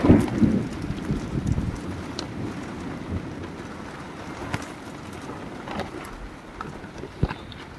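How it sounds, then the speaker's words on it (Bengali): Heavy rain pouring at night during a storm, a dense steady roar of drops on surfaces with low rumbling gusts and occasional louder splatters, continuous throughout. "ঝাঁঝর বৃষ্টি হচ্ছে"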